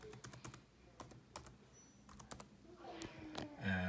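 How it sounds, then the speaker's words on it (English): A student ID is typed on a computer keyboard in a quiet room: a run of soft, close key clicks in irregular bursts, followed by a faint hum. "this is where you would type in your child's student ID"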